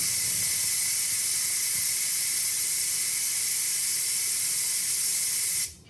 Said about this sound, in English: we're literally just going to release the steam